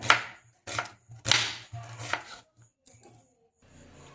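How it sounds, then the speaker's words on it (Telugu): Knife chopping onion finely on a board: several bursts of quick, close cutting taps, with short pauses between them. "ఇప్పుడు ఉల్లిగడ్డను అయితే కట్ చేసుకుందాం"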